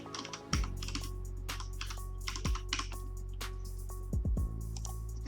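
Fingers type quickly on a computer keyboard, with bursts of close, crisp key clicks and a few heavier thumps from the space bar or enter key over a low steady hum.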